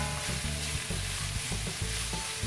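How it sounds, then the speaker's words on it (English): Ingredients for fried lemongrass quail sizzle steadily in a pan while a utensil stirs and scrapes them in a quick, repeated rhythm, close up with no talking. "now we start to fry it well"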